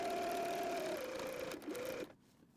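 A sewing machine stitches fabric bunting pennants with a quiet, rapid, steady whir for about two seconds, then stops.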